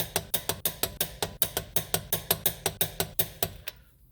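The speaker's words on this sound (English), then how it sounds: "Grab your torque wrench, set it to 74 foot-pounds or 100 newton meters." Torque wrench ratcheting on a 2008 Subaru Impreza ball joint, about fifteen quick evenly spaced clicks close up, then silence.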